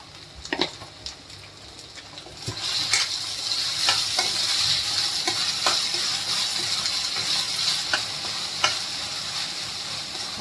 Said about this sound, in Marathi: आता हे चांगले नरम होतील तोपर्यंत शेकून घेऊया